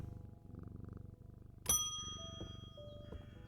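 A pet cat in the game Strange Antiquities purrs in a steady, low rhythmic rumble after being petted, broken midway by a bright metallic ding that rings out over the continuing purr.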